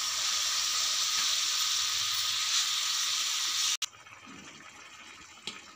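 Boiled bottle gourd added to sizzling tomato masala in a pan, a loud steady hiss of frying that cuts off abruptly and gives way to a quieter, softer sizzle.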